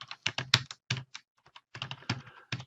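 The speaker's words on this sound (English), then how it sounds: "You just type in text into a page." Keys on a computer keyboard clack in quick, irregular bursts with short pauses between words, close and crisp, with no voices.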